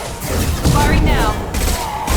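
Gunfire in the video game Mass Effect 2, a loud burst of shots and thuds with a voice speaking over the combat noise.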